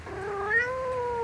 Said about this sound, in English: He saw a white cat sitting near the pond, looking at the goldfish that was swimming in the water.